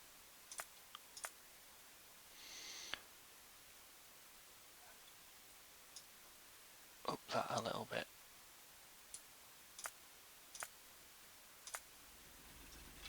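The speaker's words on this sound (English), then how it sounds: "the mining drill makes a little clicking noise as it's drilling" A mining drill in Factorio gives off faint, sharp clicks at irregular intervals while drilling, quiet and sparse, with a short stretch of speech in the middle.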